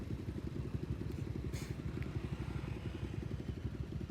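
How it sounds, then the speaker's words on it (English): Motorbike taxi ride from Old Town Phuket toward Rassada Pier, the engine's steady close-up chug running continuously with a brief clatter partway through. "I think this was our first time hopping on the back of a Bolt motorbike to get to the pier"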